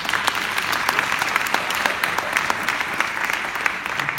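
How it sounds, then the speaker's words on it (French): A conference audience claps steadily and evenly in a dense, sustained round of applause with no voices over it. "On les applaudit."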